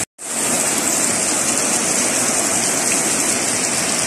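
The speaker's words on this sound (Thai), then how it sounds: "ตอนนี้ฝนตกค่ะเห็นไหมคะฝนตกค่ะ" Steady heavy rain pours outside a house, a dense continuous hiss that starts abruptly after a brief silence and stays loud throughout with no talking.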